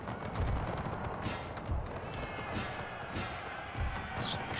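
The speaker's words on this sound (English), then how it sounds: "cannons will be turned against them." Cannon fire booms across a Napoleonic battlefield in the Napoleon: Total War game, several dull thuds spaced irregularly over a continuous roar of battle noise.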